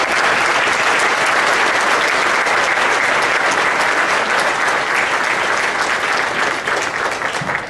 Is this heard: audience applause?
yes